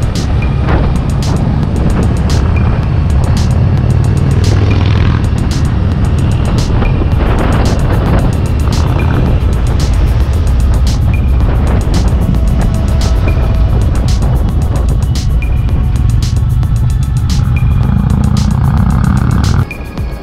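A Honda CG125 motorcycle's exhaust drones loudly and steadily while riding on an autumn road trip, with heavy wind rush over the microphone and no voices throughout.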